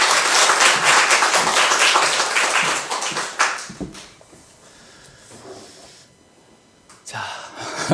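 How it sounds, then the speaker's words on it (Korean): A church congregation applauds a guest pastor, Kim Gyu-nam, loudly for about three seconds, then the clapping thins to scattered claps and quiet before a brief renewed burst at the end. "나오실 때 박수 부탁드립니다"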